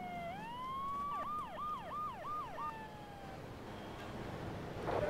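A police siren in the video game GTA III wails up and down in a rapid yelp pattern, then settles into a steady tone, over engine and traffic rumble.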